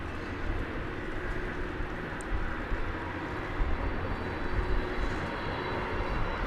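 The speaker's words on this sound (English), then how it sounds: "You might have heard the whine of this 767 now coming into its parking spot over at UPS." UPS Boeing 767 taxiing into its parking spot at Dallas Fort Worth airport, a distant steady engine hum and whine with slight swells, no voices.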